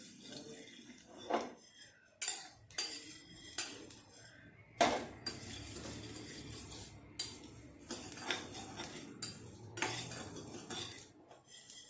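Spices roasting in a pan for Punjabi carrot, cauliflower and turnip pickle, heard as repeated close scraping and clinking of a metal spoon stirring against the pan in irregular strokes, fairly quiet.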